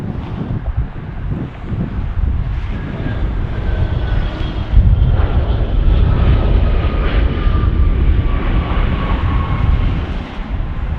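A Challenger business jet takes off at Las Vegas in a strong crosswind: a loud, sustained engine roar with a thin turbine whine on top, rising midway and buffeted by wind noise on the microphone throughout.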